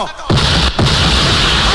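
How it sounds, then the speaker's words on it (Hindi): Two loud, harsh gunshot blasts in quick succession, close and overwhelming, each followed by sustained noisy rumble. "तेरे पटाखों से चंगेजी नहीं डरेगा।"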